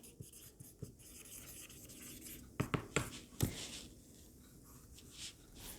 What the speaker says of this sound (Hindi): इसको जरा रेड पेन से लिखती हूँ, दिखे आपको